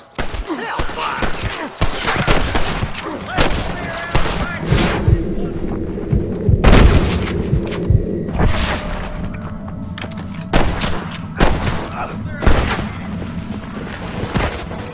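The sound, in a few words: gunfire in Red Dead Redemption video game shootout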